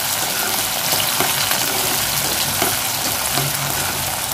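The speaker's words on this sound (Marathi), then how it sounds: "मऊ होईपर्यंत आपण टोमॅटो परतून घेणार आहोत।" Tomatoes sauté in a pan, filling the scene with a loud, dense, continuous sizzle and faint stirring taps underneath.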